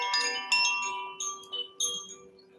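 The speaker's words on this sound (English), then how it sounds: "I love the sound of the chimes." Bright metallic chimes ring in several separate strikes, each shimmering tone lingering and overlapping as it slowly decays, close and clear with no talking.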